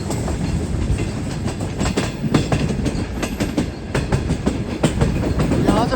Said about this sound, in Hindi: आज ट्रेन मुल्तान जा रही है जबकि ट्रेन को मुल्तान नहीं जाना था।